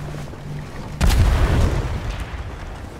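In the ATLAS naval game, a ship's cannon fires once, a loud booming blast over steady sea and ambient noise that decays over a couple of seconds.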